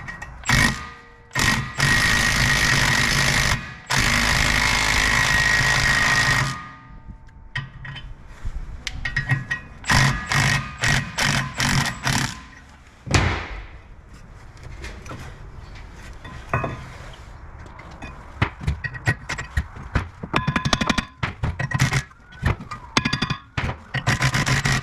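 Loud metallic banging and clanking as a hammer strikes a rusted Honda Civic rear brake drum, a few heavy strikes early on followed by many sharp, irregular hits against metal, close by.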